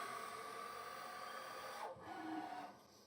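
A ProtoTRAK RMX CNC mill traverses to its home position with a steady whining hum of the axis drives, a descending pitch sweep as one move ends and another motor tone starts, then fades near the end.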